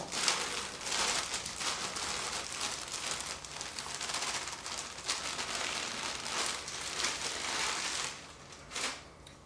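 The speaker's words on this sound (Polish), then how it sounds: "Zatem zaczynamy od przesypania aromatu." Dry granular flavoring powder for slushie drinks pours steadily into a container, a continuous crinkly rustle that fades near the end with a brief final rattle.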